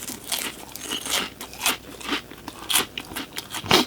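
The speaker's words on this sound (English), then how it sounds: "The pork rinds make it harder because they're rough and crunchy." Rough, crunchy pork rinds being chewed up close, with irregular crisp crunches and bites repeating quickly and no talking.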